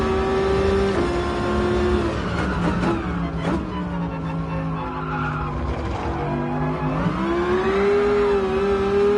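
A race car in Gran Turismo Sport revving hard through a corner, the engine note rising and falling with throttle changes and gear shifts, loud and close, with no talk.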